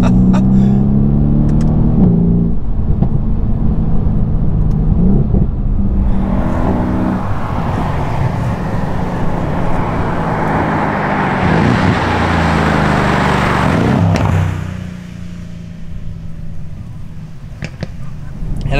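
A Mercedes-AMG C63s safety car driving, its engine rumbling low then rising into a strong accelerating roar for several seconds before dropping back to a quieter idle-like drone.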